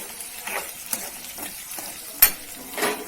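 Four halved dry red chillies frying in a pan with other ingredients, a soft sizzle broken by stirring scrapes and one sharp clink of a utensil, close and alone.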